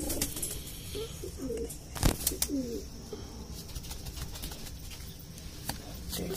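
A flock of about 32 Indian pigeons kept for sale, among them a blue one, coos softly and intermittently against steady ambient noise, with a few sharp clicks or wing flutters in the middle.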